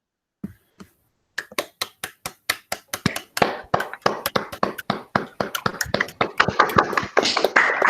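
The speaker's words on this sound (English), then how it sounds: "That's the best virtual clap I've seen so far" Online seminar participants clap virtually. A few isolated claps open, then a steady run of sharp individual claps builds into a denser, overlapping patter of many hands by the end.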